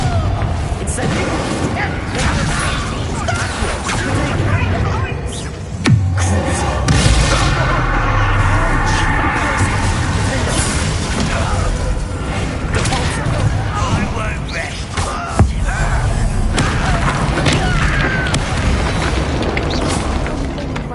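Continuous loud, rumbling blasts and crackling bursts from wizard spells Confringo and Incendio in a video game battle, layered with game effects and a voice speaking over the din.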